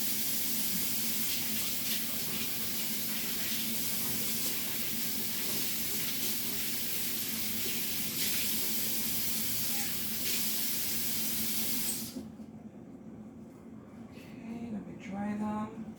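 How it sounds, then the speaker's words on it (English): Tap water running as hands are rinsed at a kitchen sink while seasoning chicken: a steady loud hiss of flow for about twelve seconds, then it stops, leaving quiet kitchen sounds. "So let me rinse my hands again."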